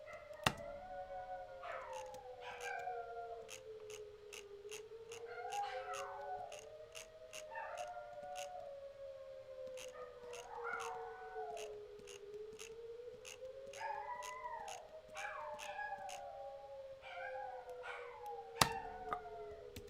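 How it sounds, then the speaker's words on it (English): An emergency weather alert siren rises and falls in slow, repeated sweeps while dogs howl along in bursts over it, with sharp clicks and a couple of knocks scattered through; no one speaks. "that's like the emergency weather signal going off over here"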